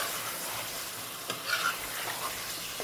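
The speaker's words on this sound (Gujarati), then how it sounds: "શાક નાખીને આવી રીતના મિક્સ કરી નાખવાનું સરસ મજાનું" Vegetables stirred into a curry in a hot pan, a steady close sizzle with a few scraping stir strokes, no voices.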